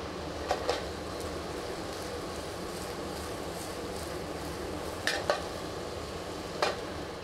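Potatoes and onions with chopped fresh thyme cook in a restaurant kitchen pan with a steady, soft sizzle, punctuated by a few light clinks of utensils against the pan.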